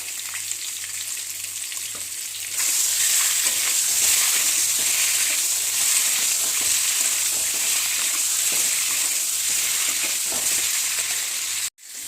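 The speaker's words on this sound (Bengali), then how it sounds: "দেখো আমার ডিমটা ভাজা হয়ে গেছে" Quiet hiss, then a louder burst of sizzling oil as duck eggs fry, crackling steadily for several seconds before cutting off abruptly near the end.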